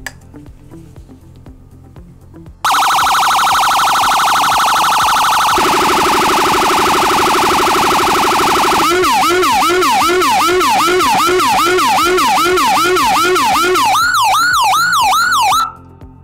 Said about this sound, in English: I'll go ahead and activate my siren tone, and then I'll activate my Vibe by tapping my white cable to the positive connection